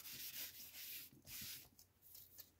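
Sandpaper rubs back and forth across one side of a journal cover piece in a quiet room, soft close scratchy strokes in an uneven rhythm of about six passes.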